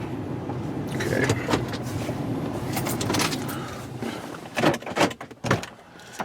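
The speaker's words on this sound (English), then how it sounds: "kind of hear it sloshing in there as I drive" Water trapped inside a car door, heard while the car is driven and the door is moved, gives soft muffled sloshing and swishing under road and cabin noise, with a few louder knocks and shifts toward the end.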